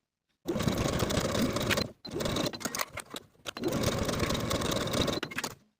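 A sewing machine stitches the shoulder seams of a V-neck T-shirt in three loud, close bursts of rapid mechanical whirring, with brief pauses between runs and no talking.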